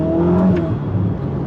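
A Ferrari SF90 engine revs up close and loud, a steady rising tone with strong low rumble held for a moment without talk.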